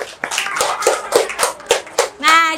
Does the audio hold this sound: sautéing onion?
no